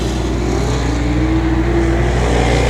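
Race cars at a speedway roar past side by side, a loud, steady engine drone with a rising whine partway through, close and filling the whole clip.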